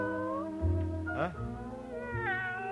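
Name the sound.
alley cat meowing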